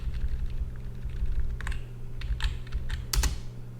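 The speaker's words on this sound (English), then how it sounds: "I press enter here and go down to Portuguese" Computer keyboard keys pressed during an Ubuntu server virtual machine setup: several separate clicks and a couple of quick taps over a steady low hum, with one sharper press near the end.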